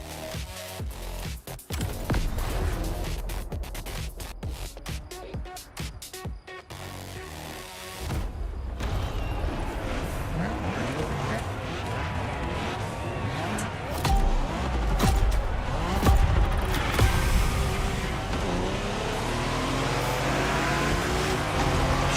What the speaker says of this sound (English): Oh, it's got to be done in the Supra.